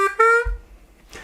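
A harmonica plays a short blues introduction phrase, holding a wavering 2-draw note with vibrato after a couple of brief notes, close and clear, with a short breathy sound at the end.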